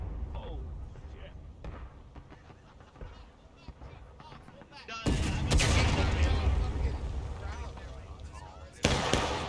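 Artillery rounds land close by in a shooting video game, bursting as a loud sudden blast that rumbles for several seconds, with a second hit near the end, after a stretch of scattered gunfire and players talking.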